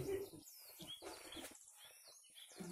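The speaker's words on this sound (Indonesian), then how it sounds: "Banyak burung." Many small birds chirp and tweet faintly around a village at the foot of a mountain, with scattered short calls over a quiet, soft background and a few low voices in the distance.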